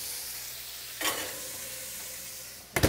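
A brined pork chop sears in a hot pan with a loud, constant hiss, briefly louder as it is moved and again at the end.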